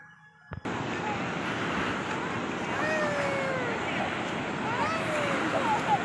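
Ocean waves wash on a beach at Vailankanni with a steady, broad roar that begins abruptly after a short quiet start, while indistinct voices and occasional high cries sound faintly underneath.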